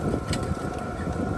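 A VEVOR diesel heater runs with its muffler removed at a winter camp, giving a continuous low rumbling roar with a steady whooshing hiss and no break.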